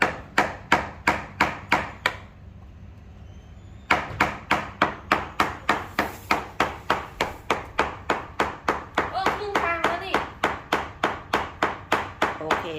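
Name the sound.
hammering chisel to lift floor tiles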